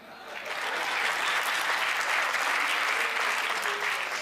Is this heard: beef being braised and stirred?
no